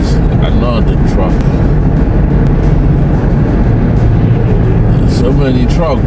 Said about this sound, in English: So many trucks.